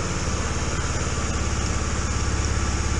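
A Honda XRE300 motorcycle engine runs at a steady, close idle with an even, rapid low thump and no voices.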